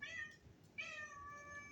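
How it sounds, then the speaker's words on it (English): A house cat meows twice, close and clear, with a short first call followed by a longer, drawn-out second meow, heard alone without talk. "It's a cat."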